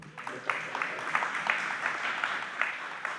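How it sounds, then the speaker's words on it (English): A moderate crowd at a city council health committee community meeting claps for speaker Julia Applegate, a fairly even, mid-level patter of applause with slightly rhythmic peaks, heard at a moderate distance. "Give her a round of applause"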